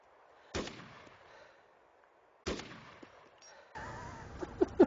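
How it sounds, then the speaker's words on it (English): Gunshots ring out in the Arma II DayZ game as a cow is shot: two sharp separate reports with short decaying tails, then a burst of busier game sounds at the end. "I'm going to shoot him in the udder"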